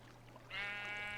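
A single sheep bleats in Minecraft, a short game-style bleat that starts partway in and holds steady to the end over a low constant hum.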